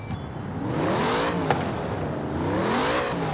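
A 1970 Chevrolet Chevelle SS muscle car with a huge V8 revs up and down close by, its loud rumbling engine note rising and falling in smooth sweeps with nothing else heard.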